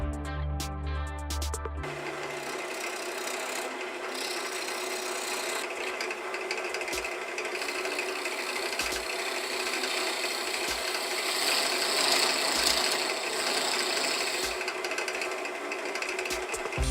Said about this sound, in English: So I'm going to go ahead and start working on the drilling.